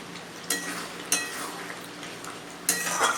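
Mutton browning in a pot gives a low simmering sizzle, broken by a few sharp scrapes and clinks of a spoon stirring against the metal, spaced unevenly and close by.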